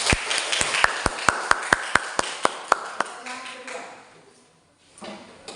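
Classroom clapping during a teaching session: about a dozen sharp, evenly spaced claps in a steady rhythm that stop abruptly, then brief quiet and faint room sound.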